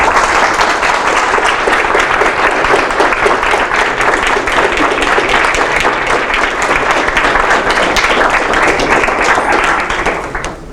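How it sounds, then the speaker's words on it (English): Sustained audience applause fills a room after a lecture on English lyric poetry, a dense, steady wash of many hands clapping at full strength throughout before easing slightly at the very end. "That's, by the way, the longest applause that we've heard in this room in a long time."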